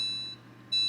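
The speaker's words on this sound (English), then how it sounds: "Then we're gonna set a timer." A kitchen oven timer being set, giving short high electronic beeps at the start and again near the end, with a low appliance hum underneath and no talking.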